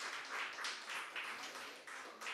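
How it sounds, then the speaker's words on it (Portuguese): A church congregation claps hands in worship, a quick, even rhythm of many palms striking together, soft to moderate and steady, without talk. "As palmas louvam ao Senhor."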